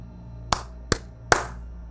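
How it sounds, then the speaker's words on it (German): Three light hand claps ring out crisply at an even pace, each a sharp, close snap with a short decay, against a quiet, low hum. "Sirius hob die Hände und klatschte dreimal leicht"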